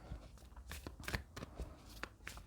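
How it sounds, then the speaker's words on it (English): Tarot cards are shuffled by hand in a brief run of quiet, close riffling flicks and soft slaps. "Let's draw some more cards, Taurus."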